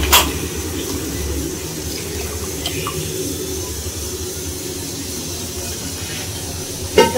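Water poured into a pot for biryani on a home cooking day, a steady rushing splash that runs unbroken for several seconds at close range, with no talk over it.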